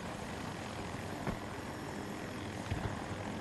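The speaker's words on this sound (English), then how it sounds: "Oh, it's an attack chopper." An attack helicopter in Battlefield 2042 drones steadily from a distance, a continuous rotor-and-engine wash with a couple of faint thumps from the battle around it.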